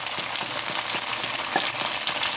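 Cooked lamb pieces go back into a hot frying pan, giving a steady close sizzle with several soft taps and scrapes of utensils against the pan.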